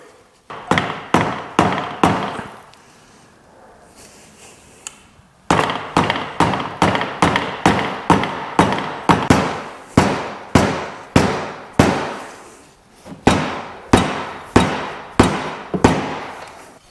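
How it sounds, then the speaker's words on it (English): A rubber mallet strikes a Ducati Panigale 899 clutch part in quick bursts of sharp, close, loud taps, about two dozen blows in rhythmic runs separated by short pauses. "I just need to tap on it with the rubber mallet to break this seal loose."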